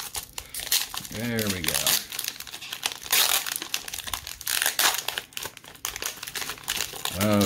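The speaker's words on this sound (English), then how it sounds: "trying not to tear up the package because it's a wonderful, wonderful, wonderful foil pack" A foil wax pack of 1987 ALF trading cards being opened, loud crinkling and tearing of foil wrapper in close, uneven bursts, with a brief spoken remark near the end.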